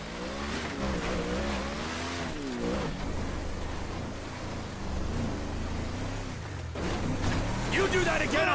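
A truck engine in the video game GTA hums and revs in a steady drone, rising in bursts, while a voice talks loudly over it.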